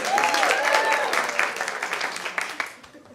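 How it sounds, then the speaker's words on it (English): Applause from an improv comedy audience, steady and fairly loud for a couple of seconds, then thinning into scattered claps, with a voice briefly heard over it. "Give her a round of applause."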